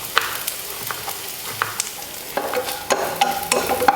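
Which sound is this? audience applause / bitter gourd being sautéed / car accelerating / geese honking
bitter gourd being sautéed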